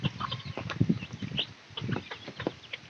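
Chickens cluck and scratch while eating rice scattered for them, soft irregular pecking and short clucks at close range, with light rain falling outside.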